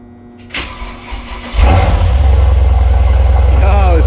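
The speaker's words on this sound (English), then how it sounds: "let's officially give it a crank. Hopefully it turns over now." A 2019 Mercedes C63 AMG's engine cranks briefly, then catches and settles into a loud, steady idle with a deep rumble, while people talk nearby before and during the start.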